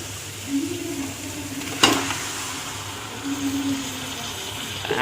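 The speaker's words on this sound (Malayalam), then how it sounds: "അപ്പോൾ നമ്മൾ ചിക്കൻ എടുത്ത് മിക്സ് ചെയ്യാൻ പോണേ." Chicken pieces stirred into a sizzling masala paste in a pan, a steady frying hiss with a sharp scrape of the spoon partway through and soft stirring sounds, no voices.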